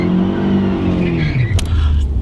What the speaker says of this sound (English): So if I just roll back, rev the car up